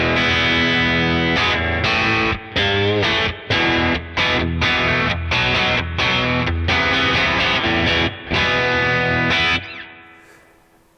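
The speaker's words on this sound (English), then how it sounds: "The bridge pickup sounds like this." A Squier Classic Vibe Stratocaster-style electric guitar on the bridge pickup plays chords and riffs with a bright, biting distorted tone, loud and close, with short pauses between phrases before the final chord fades.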